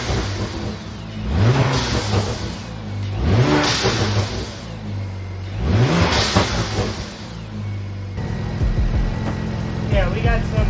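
A car engine revs repeatedly after its O2 sensors are replaced, the revs rising and falling in four loud surges with idling between, heard close up with voices talking over it.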